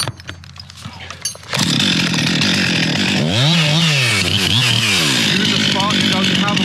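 A chainsaw cuts a back cut into a large tree top, idling briefly before revving up into a loud, sustained whine whose pitch rises and dips as the bar works through the wood.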